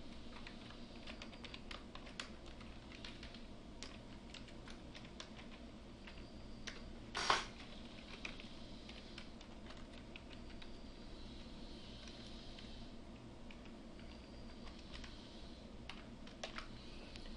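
Steady, fairly quiet patter of typing on a computer keyboard while HTML code is written, with one sharper louder click partway through and a low hum underneath, no voices.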